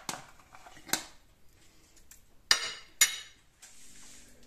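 Blackberry jam pulp stirred in a bowl while the seeds are being separated out, giving a few sharp clinks of utensil on the bowl, two louder knocks near the end, and soft scraping between them.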